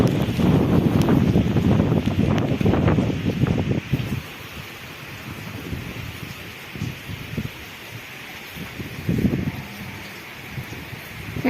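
Strong wind gusts during a heavy rainstorm over a crop field, roaring loudly for the first few seconds, then easing into a softer blustery hiss with a brief renewed gust near the end.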